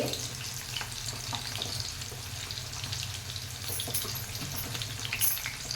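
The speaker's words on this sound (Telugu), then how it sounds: "వేగుతుంది చూడండి" Onions and green chillies frying in oil with cumin seeds, giving a quiet steady sizzle up close over a low hum, with occasional light crackles and a faint stir near the end.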